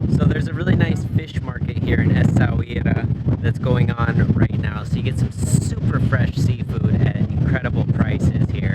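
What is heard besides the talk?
wind blowing across the microphone at the beach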